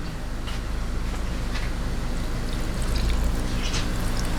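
Water pours into a pan of pork frying in its own fat, giving a steady wash of bubbling, sizzling hiss with faint ticks and pops, close and moderately loud, with no talk.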